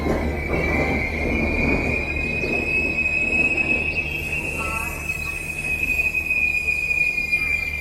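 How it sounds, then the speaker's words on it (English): The Yeshwantpur Kannur Express passes nearby with a loud, sustained high-pitched wheel squeal over a continuous rumble of rolling coaches, and faint voices in the background. "That is the Yeshwantpur Kannur Express"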